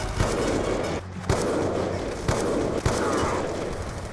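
Grenades explode in the Black Ops 2 video game, a few sharp booms punching through a dense, constant wash of loud game noise and gunfire.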